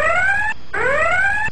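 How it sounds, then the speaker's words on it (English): A starship battle stations alarm from a Star Trek Amiga animation, two loud rising electronic whooping sweeps separated by a short gap, harsh and close, with no voices over it. "Mr. Sulu, sound battle station"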